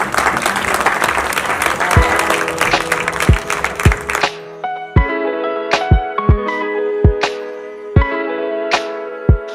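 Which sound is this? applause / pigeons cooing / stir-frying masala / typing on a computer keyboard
applause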